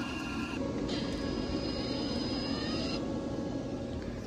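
A YesWelder YWM-211P MIG welder feeds wire through a graphene liner, a steady close mechanical whir with a constant motor hum that runs without pause and has no talk over it.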